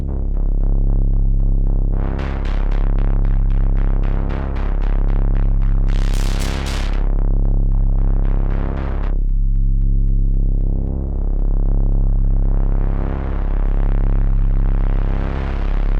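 Deep, rounded modular synth bass notes, built from a sine wave, pulse in a steady pattern, roughened by a gritty distortion crunch, with occasional bursts of brighter noisy texture.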